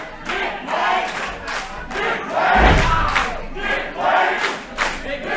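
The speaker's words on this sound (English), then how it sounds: "And the Without a Cause crowd getting behind their guy, Nick Wayne." A wrestling crowd at a Without a Cause show roars and chants in support of their wrestler, loud, sustained cheering with rhythmic shouted bursts and a heavy thud midway.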